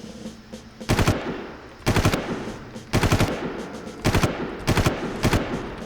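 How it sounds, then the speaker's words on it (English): Automatic weapon fire in the video game Far Cry, loud close bursts of rapid shots repeating roughly every second in an even rhythm, with no voices over it. "You can often coax him out with a shot like that."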